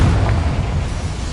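Spell explosions from Bombarda and Confringo in the video game Hogwarts Legacy: a dense, booming low-end blast that rumbles steadily through the whole moment, loud and close.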